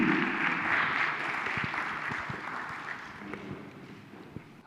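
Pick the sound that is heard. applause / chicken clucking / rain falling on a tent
applause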